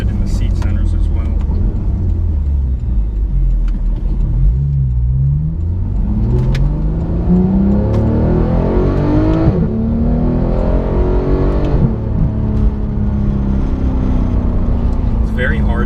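A 2015 Porsche 911 GT3 engine revs loud and close, rising and falling through the gears in long sweeping pulls inside the cabin, with people talking over it.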